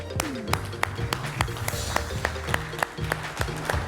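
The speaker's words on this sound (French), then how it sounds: "On les applaudit" A studio audience at a French televised cooking competition claps, with sharp individual hand claps at a fairly steady rhythm over a soft background of music and murmur.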